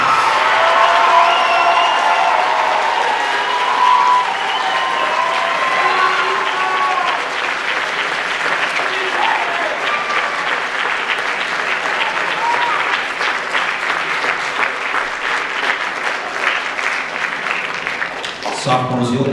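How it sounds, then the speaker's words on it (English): Sustained audience applause for the sophomore class at a high school band awards concert, a loud, dense wash of clapping with some crowd noise and brief voices, lasting nearly twenty seconds before cutting off. "give one final great round of applause for our sophomore class."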